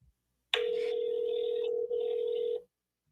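A single steady telephone ring tone on an outgoing call sounds for about two seconds, loud and close, with a tiny break partway through, then stops.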